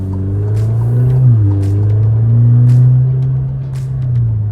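Alfa Romeo Giulia 2.0L sedan being driven hard around a corner, its engine holding a steady loud drone that dips briefly then rises again, with road rumble and some tyre noise throughout.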